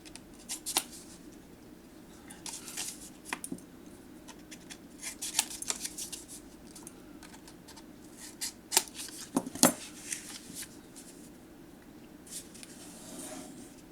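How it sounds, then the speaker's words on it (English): Small scissors snip paper while a handmade journal is put together, giving soft, irregular cutting clicks and rustles close by in a quiet room, with a few sharper snips scattered through and no talking. "Let's use smaller scissors, easier to handle."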